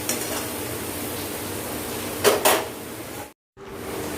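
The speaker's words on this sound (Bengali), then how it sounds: "গাজরগুলো ভাজতে ভাজতে নরম হয়ে গেছে" Chopped carrots with salt fry in oil alongside bay leaves and whole garam masala for mutton biryani, a steady close sizzle that runs throughout, broken by a couple of brief utensil clatters near the end.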